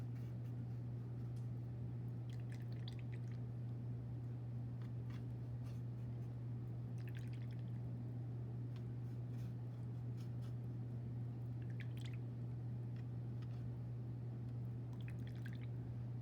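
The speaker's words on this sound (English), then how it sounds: "I'm just going to work my way across the palette, just kind of wetting all of the paints." Soft drips and small splashes of water sound intermittently as watercolor paints on a palette are wetted, faint and close over a loud, steady electrical hum.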